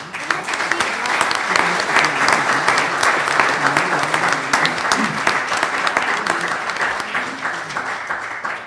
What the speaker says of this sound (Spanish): Solicito un aplauso, por favor, para Mimi Lozano Chapa.